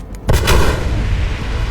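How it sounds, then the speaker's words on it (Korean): Explosion scene from the film The Dark Knight, where a real building is blown up: a sudden loud blast at about a quarter second followed by a sustained, roaring rumble of debris that fills the rest of the moment. "다크나이트 속 조커가 병원을 터뜨리는 장면은 뭐지?"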